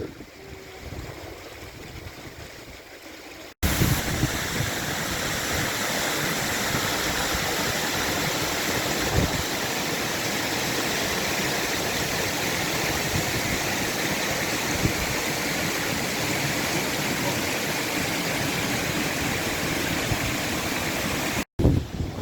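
A steady, dense rush of falling water from a waterfall and stream in the Comeragh Mountains fills the scene, broad and continuous, with no voices.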